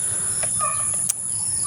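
Chickens clucking on a farm in the early morning, a few short clucks and calls against a steady high insect drone, near and clear, no talk.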